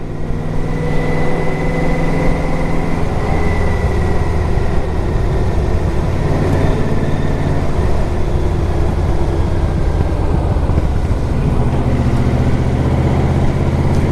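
A 2006 Yamaha Royal Star Deluxe, a 1300 V4 cruiser, runs steadily at highway speed in fourth gear, its engine drone continuous and loud beneath heavy wind rush for the whole stretch, with no talk.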